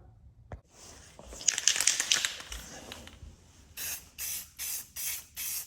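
Spray paint hisses onto a custom Ram Air hood grille insert letter plate for a 2016 Cummins, first a longer sweeping burst, then five short evenly spaced spray bursts up close.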